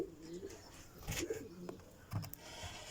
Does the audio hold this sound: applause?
no